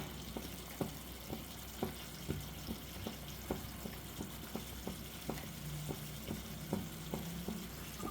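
Keema masala sizzles and fries in a pan as grated egg is stirred in, with regular soft scraping strokes of a spoon about once a second over a steady close hiss.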